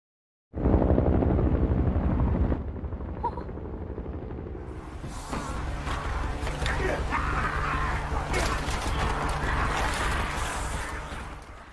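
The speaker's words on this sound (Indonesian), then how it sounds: "mereka melihat ada helikopter di luar" A loud, thick rotor drone starts abruptly, then fades into a busier, noisier wash of machine roar that continues steadily to the end.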